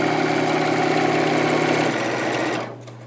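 A home sewing machine stitches across the seam of a T-shirt quilt, running with a steady whirring motor hum close up before slowing and stopping near the end.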